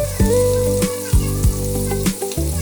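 Green chillies frying with garlic and ginger paste in a pan for Bengali ghugni, a steady loud sizzle broken by several sharp stirring knocks and scrapes.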